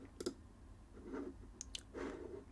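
Two short crisp computer mouse clicks, close and quiet, over faint room noise with a few soft rustles between them.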